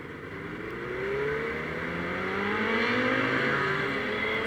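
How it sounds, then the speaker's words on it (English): Benelli motorcycle exhaust droning steadily and close, with rising engine tones as it revs and accelerates, loud and continuous with no talk. "I loved the sound of the Benelli exhaust."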